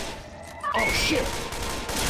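Sustained gunfire in the zombie shooter game Left 4 Dead 2, a dense, loud fusillade that erupts after a quieter moment and continues rapidly to the end, with game voices faintly mixed in.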